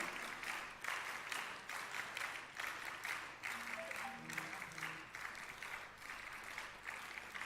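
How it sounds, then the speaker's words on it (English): Audience applause for students at a school investiture ceremony, a steady, fairly faint wash of many hands clapping that continues throughout, with a few brief tonal sounds in the background. "Can we have again a big round of applause for each one of them?"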